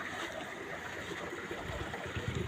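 Water trickles steadily in a small mountain stream near Lake Herashaska in the Carpathians, a continuous close babble and gurgle with no voices.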